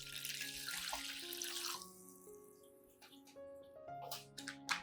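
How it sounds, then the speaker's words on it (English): Baking soda solution pours steadily into a container with a running, splashing flow, then trickles and drips toward the end; close and fairly quiet, no talking. "Pour all of the freshly prepared baking soda solution into the container."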